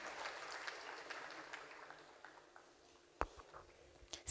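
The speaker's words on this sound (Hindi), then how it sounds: "ज़ोरदार तालियां इनके लिए।" An audience applauds faintly, dense clapping thinning out into a few scattered, isolated claps as it dies away.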